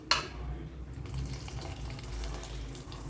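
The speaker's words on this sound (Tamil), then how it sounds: "இப்போ நான் அந்த பருப்பு வேக வச்ச தண்ணியை மட்டும் நான் எடுத்து ஊற்றிக்கிறேங்க" Water from boiled lentils is poured into a pan of sautéed brinjal for sambar, a close, continuous splashing and trickle after a brief initial hit, with a faint sizzle underneath.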